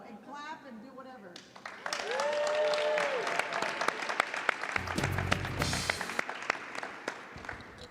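Audience applause at a summit, a crowd clapping steadily for several seconds over a busy room, with people talking over it near the start.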